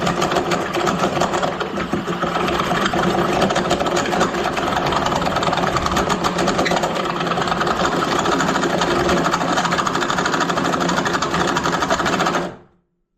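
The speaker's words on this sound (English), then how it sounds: "we'll grind this face just a little bit" A piston ring for a 1000hp LS engine build has its face ground on a ring grinder wheel, a steady loud whirring buzz that runs unbroken for about twelve seconds, then cuts off.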